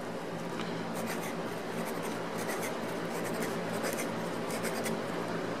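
A fountain pen scratches across cheap copier paper, a soft continuous scraping with faint quick strokes, close and quiet with no talking.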